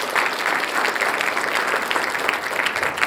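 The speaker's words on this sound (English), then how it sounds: "Big hand of applause to all the children." Applause from an audience at a school investiture ceremony, a steady dense wash of many hands clapping for the children, sustained and fairly loud throughout with no talk over it.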